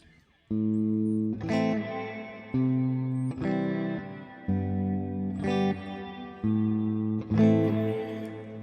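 An electric guitar plays through a Joyo Atmosphere reverb pedal with modulation engaged, striking five sustained chords or notes in an unhurried rhythm, each ringing out with a shimmering, washed tail, alone and without speech.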